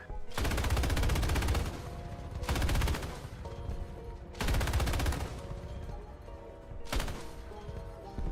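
Video game gunfire comes in four loud, rapid automatic bursts, each a few seconds long, with quieter stretches between them.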